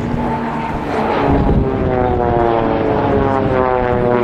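A Swiss Air Force Pilatus PC-7 propeller plane passes during an air display, with a loud, droning engine and propeller roar that swells slightly as it goes by, and no voices.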